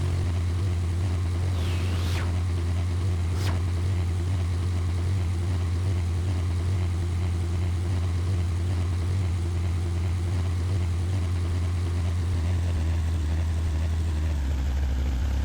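A light propeller aircraft taxis in the PTFS pilot training game, a steady low engine drone holding throughout, with a couple of brief higher whistles early on and a slight change in tone near the end.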